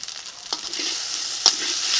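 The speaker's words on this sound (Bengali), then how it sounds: "ভেজে নিয়েছি এখন দিয়ে দিচ্ছি কাঁচা লঙ্কা বাটা" Green chili paste hits a hot frying pan with a bright steady hiss and sizzle, close and loud, with a couple of soft clinks from stirring.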